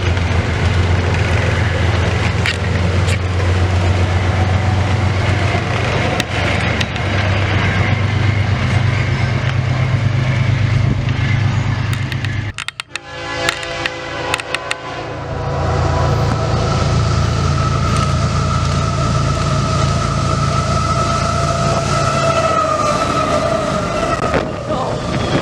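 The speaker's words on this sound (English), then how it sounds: "CSX Q263 flew through the station" A CSX Q263 freight train rushes through a station on the CSX Mohawk Subdivision, a loud, steady roar of rolling cars that dips briefly in the middle before the rumble resumes and continues to the end.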